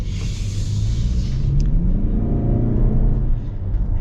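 A 2025 Toyota Camry accelerates in morning traffic, its engine droning as a steady, fairly loud rumble with a rising tone heard from the cabin.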